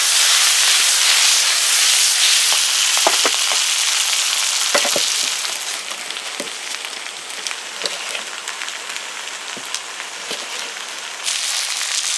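Boar meat stewing with salt, oil and tomato gives off a loud, dense hiss and sizzle that eases a little partway through, with scattered pops and light stirring clicks.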